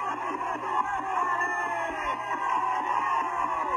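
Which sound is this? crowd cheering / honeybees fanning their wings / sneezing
crowd cheering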